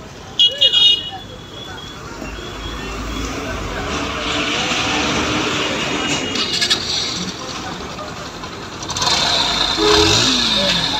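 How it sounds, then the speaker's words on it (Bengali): A Bajaj Pulsar NS 160 motorcycle with an engine sound problem runs steadily and loudly close by, a continuous rough mechanical roar with a few brief louder bursts near the start and a rise toward the end. "এই যে দেখেন গাড়ির সাউন্ড,"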